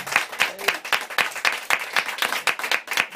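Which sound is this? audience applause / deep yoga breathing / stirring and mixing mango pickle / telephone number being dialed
audience applause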